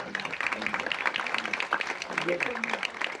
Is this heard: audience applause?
yes